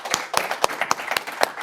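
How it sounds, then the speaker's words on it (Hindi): Audience clapping at a live broadcast event, with about six distinct sharp claps spaced roughly a quarter-second apart, fairly close and moderately loud, sounding like a few people rather than a full crowd. "जोरदार तालियां हो जाएं एक बार"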